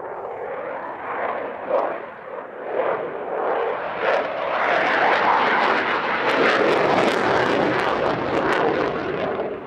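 A Belgian Air Force F-16AM Fighting Falcon display jet at the Cosford Air Show in the UK roars past, its loud engine noise building into a sustained, rushing blast.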